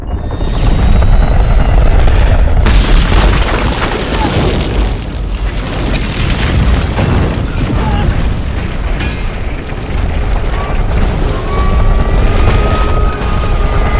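A missile explosion from the film Captain America: The Winter Soldier: a loud, sustained blast of booming rumble and roaring debris that swells after a couple of seconds and keeps thundering through the whole scene.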